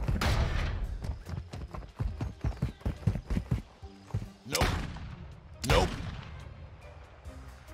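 Rapid gunfire bursts in a Call of Duty hide-and-seek match, a quick run of sharp shots followed by a couple of louder booming blasts, with faint voices in the background.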